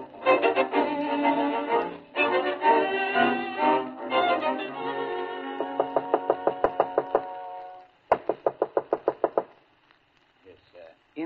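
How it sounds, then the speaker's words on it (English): Knocking on a door in a radio drama adaptation of The Shop Around the Corner, quick bursts of sharp raps repeated in two rhythmic series after a stretch of dialogue, with people talking before the knocks. "whenever you hear that particular rapping on that particular door"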